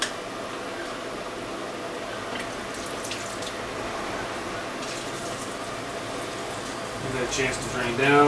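Coolant draining from a removed hose on a Nissan Murano during alternator replacement, a steady low trickle and splash of liquid that runs throughout and swells slightly louder near the end, with no talk over it.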